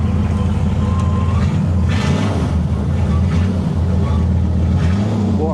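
Ford Granada 2.3 XL engine running loud and steady through a straight-through exhaust pipe with no silencer, a deep continuous rumble outdoors with wind buffeting, while people talk over it.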